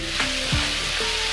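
Onions and mutton sizzle loudly and continuously in a hot pan, a steady crackling hiss with a faint scrape of stirring.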